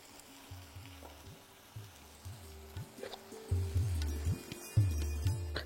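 Mashed tomato for a vegetarian potato and paneer curry sizzles and hisses in a pan after water is poured in, with stirring clatters and bubbling that grows louder partway through.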